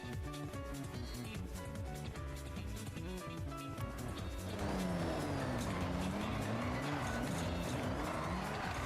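A car engine in the racing game Forza Horizon drones and revs steadily under game music, growing louder and rougher in the second half as the engine note rises.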